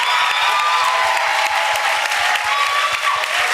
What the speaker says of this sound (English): better clap, ladies.